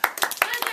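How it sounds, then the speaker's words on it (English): A few sharp hand claps in quick succession, close and fairly loud, with a voice mixed in during a playful show-and-tell. "I want you to clap."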